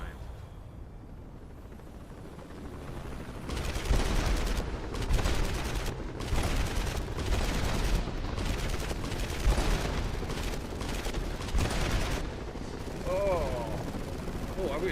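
Video game gunfire, dense rapid automatic bursts and heavy cracking shots in clustered volleys, loud and close, with a player's voice talking over parts of it.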